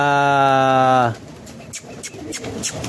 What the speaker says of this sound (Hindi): कुछ कबूतर भागने की कर रहे हैं